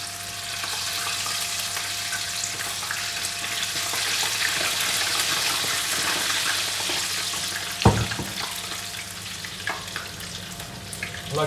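Battered tempura prawns frying in hot oil, a steady dense sizzle and bubbling that runs throughout, with a brief clatter partway through.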